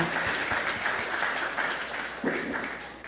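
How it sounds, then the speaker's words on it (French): Steady applause from a church congregation at a book launch, continuous dense clapping at moderate volume throughout, with no voices standing out. "On applaudit le Seigneur pour ça."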